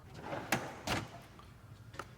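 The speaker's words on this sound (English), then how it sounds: "Keep that in this drawer." A metal toolbox drawer slides shut with a few quick, soft clacks and rattles, fairly quiet against a low background hum.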